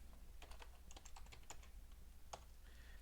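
Keys tap on a computer keyboard in short, quick clusters of light clicks, faint and close, with a brief pause between bursts.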